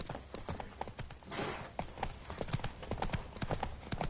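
Roach the horse in The Witcher 3 trotting and galloping, with rapid, regular hoof clip-clops on hard ground, fairly quiet, and a brief whoosh partway through.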